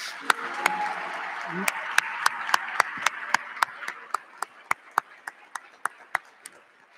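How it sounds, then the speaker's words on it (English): Applause for the Stockton University Class of 2021 at a commencement ceremony: a soft, distant crowd wash with scattered individual claps snapping out clearly in a steady run over several seconds. "Everyone, please join me in giving the Stockton University Class of 2021 a big round of"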